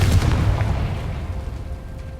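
A Confringo blasting spell goes off in Hogwarts Legacy, a loud booming explosion with a sharp onset that rumbles and decays over about two seconds, heard alone.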